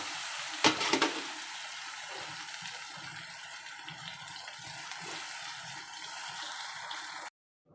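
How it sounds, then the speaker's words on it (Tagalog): Tenderized beef and a splash of broth go into a hot pan, giving a brief splash at the start and then a steady sizzle and bubbling under stirring, with no talk. "ilalagay ko na itong beef na ating pinalambot. Yan. Lagyan na rin natin siya ng sabaw-sabaw."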